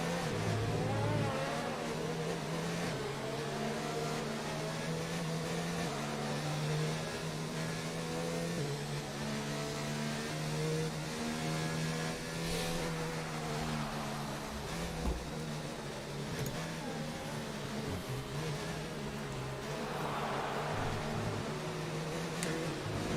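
A race car engine in a sim racing game of the Italian Grand Prix runs behind the safety car, a steady droning note that rises and falls gently, faint and continuous throughout.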